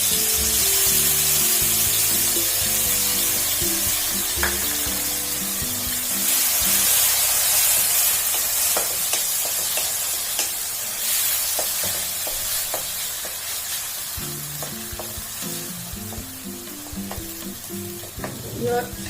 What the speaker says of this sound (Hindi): लहसुन प्याज के 2-4 मिनट भूज लेब ने कनि